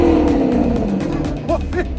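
A sports car engine drones and revs, a loud continuous motor roar with a falling pitch sweep and brief rising rev bursts near the end.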